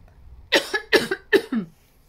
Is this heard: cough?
yes